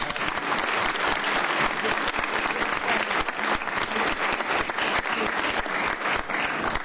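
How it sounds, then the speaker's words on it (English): Dense, loud audience applause at a Texas council meeting honoring young people, continuous clapping from a full room lasting nearly seven seconds. "Let's give these young people a round of applause."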